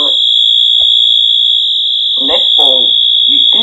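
A convenience store fire alarm horn in a Roblox game, set to continuous, sounding as a loud unbroken high-pitched tone throughout while a person talks over it.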